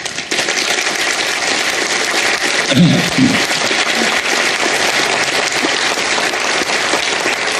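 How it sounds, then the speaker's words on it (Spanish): Loud, sustained applause from a large crowd fills the space, a dense wash of clapping that continues steadily throughout. "Y yo pido un fuerte aplauso para Jorge Suárez."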